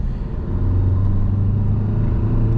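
A Tata Harrier BS6 automatic car accelerates toward 100, heard from inside as a steady, close low engine and road drone with no voices.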